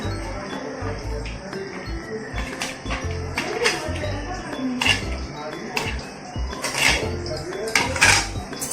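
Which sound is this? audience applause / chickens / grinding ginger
grinding ginger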